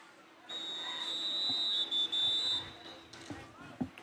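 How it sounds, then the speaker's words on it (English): A referee's whistle shrills at a high school football game between East Prairie and Dexter, one long sustained blast with a brief break, loud over crowd noise and commentary voices. "There's a whistle on the play."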